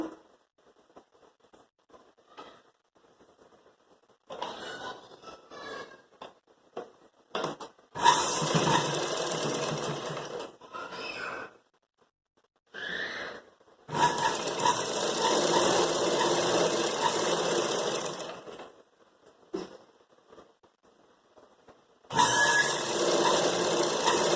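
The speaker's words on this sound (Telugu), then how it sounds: "ఫుల్ లెంత్ వరకు స్టిచ్చింగ్ చేసుకోవాలి" A sewing machine stitches a raglan frock in several loud, close bursts of fast mechanical whirring and buzzing, with a long stretch in the middle and quiet gaps of handling between runs.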